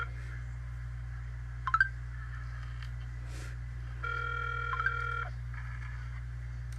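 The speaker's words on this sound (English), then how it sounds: "You can't listen to a phone ring for 2 seconds." Telephone tones from a landline or phone line: a short burst of dialing beeps, then a steady multi-tone ring lasting about a second, all over a constant low electrical hum with no talking.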